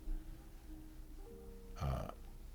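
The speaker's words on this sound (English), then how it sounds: "that cheeky buzzard arose with a belch so thunderous it woke the whole house" A single game burp effect rises suddenly near the end, short, deep and throaty, over a faint low hum and quiet background tones in the Swordhaven fantasy role-playing game.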